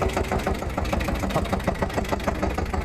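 A small 188 mini tractor engine runs close by, a steady mid-pitched chugging idle with a regular knocking pulse throughout and no other sound over it.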